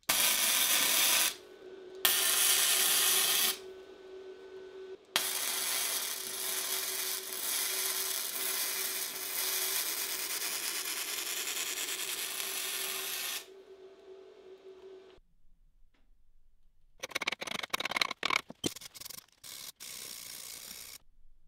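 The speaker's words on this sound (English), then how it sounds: "I'm flux core welding for my second time in my life." Flux core welding with a BESTARC MIG145 welder, a steady close crackling, hissing arc that runs in long stretches with short breaks, followed by a few sharp irregular clicks and scrapes.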